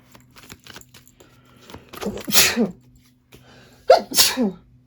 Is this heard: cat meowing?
no